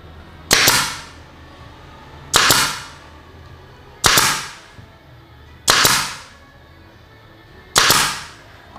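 Five sharp, loud pneumatic nail gun shots driving F30 nails fire at steady intervals, each a hard bang with a brief hissing decay, no talking.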